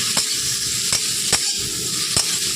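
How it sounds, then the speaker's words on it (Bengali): Onion flower buds stirred in hot oil in a pan give a constant bright sizzle, with four sharp scraping knocks from the utensil against the pan spaced roughly evenly through it, and no talking. "এবার তেলের মধ্যে পেঁয়াজ কলিগুলো আমি একটু নাড়াচাড়া করে নিচ্ছি।"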